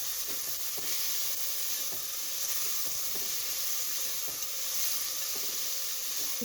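Vegetables sauté over a low flame in a pan for a Tamil bottle gourd kootu, giving a steady close hiss and sizzle with soft, regular stirring scrapes throughout.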